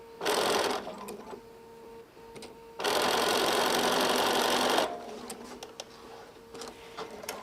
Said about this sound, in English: I remove the pins as I come to them so I don't sew over them